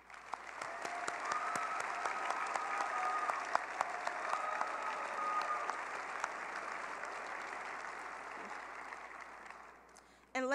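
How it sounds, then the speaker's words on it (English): Audience applause at a robotics competition closing ceremony for staff and volunteers, a broad crowd of clapping in a large hall that rises, holds steady, then thins out toward the end, with faint tones and a brief noise at the close. "Please give a round of applause to all of the staff and volunteers here at FIRST and FTC"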